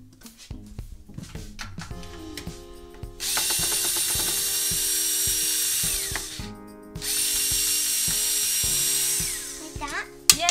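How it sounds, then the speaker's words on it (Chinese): A powered screwdriver backs out the screws that hold an oven in place: a few handling clicks, then two long, loud whirring bursts with a short pause between them, close by. "unscrew the screws， which is like super easy"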